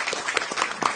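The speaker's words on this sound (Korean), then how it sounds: "박수 한번 부탁드립니다" Brief, moderate applause rises in a National Assembly Environment and Labor Committee meeting room as a newly assigned staff member is introduced. Several people clap for about a second.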